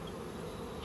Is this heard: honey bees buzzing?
yes